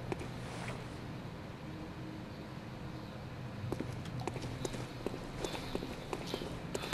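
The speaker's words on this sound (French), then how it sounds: "Entendez les bruits de pas qui résonnent?" Echoing footsteps in the video game Bloodborne, a run of crisp rhythmic steps emerging over a dense ambient rumble in the second half.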